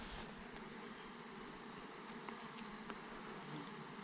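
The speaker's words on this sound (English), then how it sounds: "I got bees buzzing around my ears." Bees buzz close around a beekeeper's ears at the hive, a constant high insect drone with a few brief louder passes, no talking.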